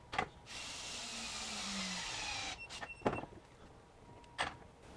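DeWalt DCF923 Atomic impact wrench on a PowerStack 4 amp hour battery breaking a fastener free, with a two-second buzzing hammer burst followed by a few short, sharp knocks and clicks close by.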